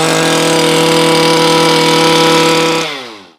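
A Stihl KM94R two-stroke engine on non-ethanol gas screams at full throttle with a loud, steady harmonic whine, then drops off sharply and settles toward idle near the end.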